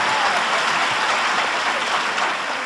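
At a comedy show, an audience gives sustained applause for the Super Eagles football team, thick continuous clapping that stays loud before easing slightly at the end.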